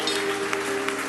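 A church congregation applauds, a dense, steady wash of clapping from many hands filling the room with an organ or keyboard chord held underneath.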